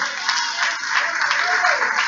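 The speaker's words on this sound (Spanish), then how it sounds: "Dale ese aplauso al Señor." A church congregation applauds during a sermon, a dense steady wash of clapping that stays even and fairly close, with a voice briefly audible beneath it.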